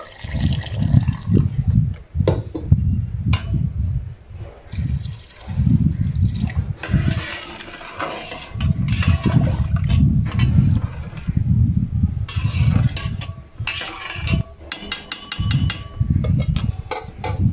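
About one and a half litres of water pours into a pot holding rice and lentils for Gobindobhog khichuri, a loud, splashing, gurgling flow that runs in several long bursts with brief pauses and no talking.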